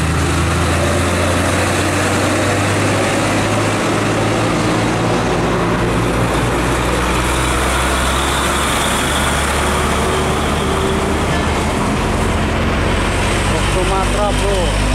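An old Mitsubishi Fuso truck engine rumbles in a steady, low idle-like drone, with continuous road and traffic noise around it throughout.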